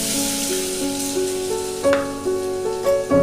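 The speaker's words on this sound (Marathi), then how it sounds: "मस्त असं कमी आचेवर वाटण तळायचं आहे" Soft, steady sizzle of a ground masala paste frying on low flame in a pan after garlic, for methi bhaji, with occasional louder stirring scrapes and a simple melodic tune playing underneath.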